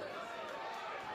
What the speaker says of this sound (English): We'll let them hear. Listen to the crowd.